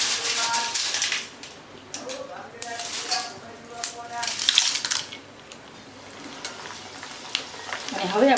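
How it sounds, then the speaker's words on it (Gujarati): Poha, flattened rice, frying in hot oil for a Gujarati makai poha chevdo snack gives a steady, moderately loud sizzle and crackle, with occasional clinks of a metal utensil against the pan. "આપણે ફરી પૌવા તળશું અત્યારે જો આપણે પૌવા તળાય છે"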